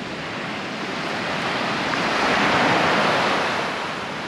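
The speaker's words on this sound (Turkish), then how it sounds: "Biraz daha göstereyim size denizi." Steady broadband rush of sea surf at Gili Trawangan, Indonesia, swelling slightly louder in the middle then easing, with some wind noise and no voices.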